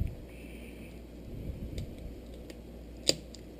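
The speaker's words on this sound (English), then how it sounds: "grab a scissors and snip that bone" Scissors snip through a milkfish bone during the preparation of stuffed milkfish, a few faint clicks followed by one sharper, louder cut near the end.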